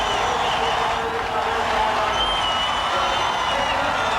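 A large racetrack crowd at the 1985 Darlington Southern 500 NASCAR race cheers and roars steadily from a distance, a dense wash of voices holding level throughout.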